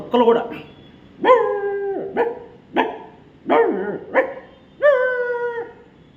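A human voice imitates a dog barking, giving about seven loud, sharp woofs with short pauses between them.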